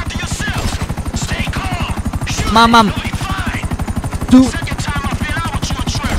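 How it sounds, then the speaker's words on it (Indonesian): A helicopter in GTA 5 drones steadily throughout, its rotor chop forming a dense rapid pulse beneath a voice speaking, with two brief louder bursts partway through. "Oh no, ada helikopter sepertinya."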